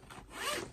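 A single short pull of a bag's zipper flap, quick and close, rising in pitch as it slides.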